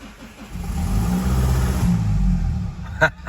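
A Mazda 6 engine with a starting fault revs up close, rising and holding a throaty roar before easing off, ending with a short sharp clatter.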